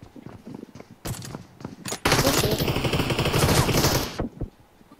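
Groza rifle fire in the mobile game PUBG Mobile: a few single shots, then a loud sustained burst of automatic gunfire lasting about two seconds before it stops.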